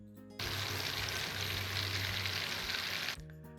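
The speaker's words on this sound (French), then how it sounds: "on fait chauffer le beurre dans une casserole et on va l'écouter crépiter" Butter sizzling and crackling in a saucepan as it heats toward browning, a steady dense hiss that starts abruptly, holds for about three seconds at moderate level, then cuts off.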